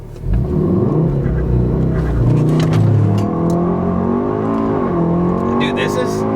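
A tuned Mk7 Golf R launches from a standstill at full throttle in first gear on paddles, its engine revving hard and climbing loudly up close while people talk over it.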